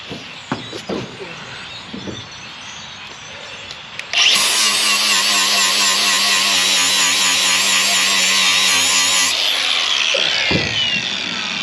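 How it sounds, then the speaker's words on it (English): An angle grinder grinds down steel at a trailer's ground point, starting abruptly after a few faint knocks and running as a loud, steady, high-pitched whine for about five seconds before cutting off and winding down. "So I'm going to grind this down and try and give it somewhere to clamp onto."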